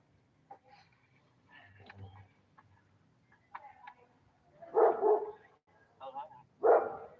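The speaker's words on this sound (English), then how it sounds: "He's barking at some dude going to the bathroom." A dog barks in a few loud, close bursts toward the end, after quieter scattered sounds and faint background voices earlier on.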